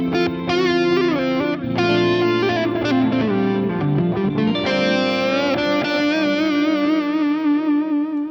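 Distorted electric guitar with chorus and reverb plays sustained chords and melodic lines over an ambient backing loop on a Hotone Ampero Mini modeler, steady and loud throughout with no talking.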